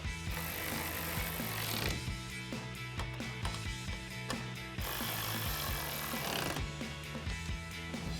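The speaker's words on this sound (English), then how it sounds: "And then we'll take a T50 torque socket and tighten those down." A T50 Torx socket tightens hardtop bolts on a 2021-2024 Ford Bronco, with quiet, close metallic ratcheting clicks and rubbing scrapes in short bursts throughout.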